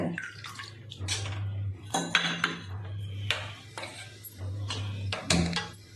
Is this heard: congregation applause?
no